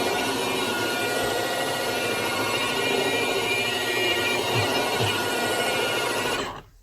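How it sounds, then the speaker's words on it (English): A carpet polisher fitted with a pad runs steadily over carpet during extraction, a continuous loud whirring drone that holds constant before cutting off abruptly at the end. "I use a pad with the polisher to extract."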